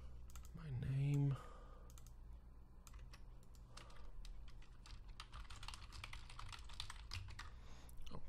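Steady, close typing on a computer keyboard while an email is written, with rapid clustered key clicks throughout after a brief opening hum or voice-like tone.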